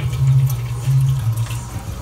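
Hot sparge water from a hot liquor tank trickles slowly into a home-brew mash, a steady low watery rush running continuously at close range with no talk.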